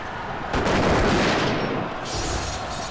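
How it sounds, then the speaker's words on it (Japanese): Matchlock guns fire in a Nobunaga's Ambition strategy game battle: a loud volley of crackling shots bursts in, then a second burst follows, with no talk. "前に出てこないんだったら鉄砲撃てばいいな"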